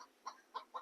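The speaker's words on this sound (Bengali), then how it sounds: "এখানে একটা মুরগি কক কক কক কক করছে" A hen perched high up in a lychee tree gives three short clucks in an even rhythm, faint and somewhat distant, with no talking.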